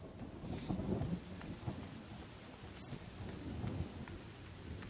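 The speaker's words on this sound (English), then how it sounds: "Yeah, it had to rain, didn't it?" Steady rain and low rumbling thunder in The Forest survival game, a dense continuous wash of rainfall with rolling low booms, moderately loud and no voices.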